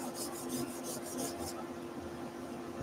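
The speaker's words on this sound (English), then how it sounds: "just with a bit of abrasive, just again sand these edges" Abrasive rubbing along the edges of a small wooden Reiterlein Christmas ornament, a close, steady rasping scrape in repeated strokes for about a second and a half before easing to a quieter rub.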